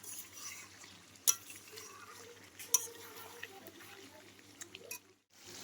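Mutton with plenty of garlic sautéing in a pan, heard as a soft, steady background with stirring scrapes and two sharp utensil clinks against the pan.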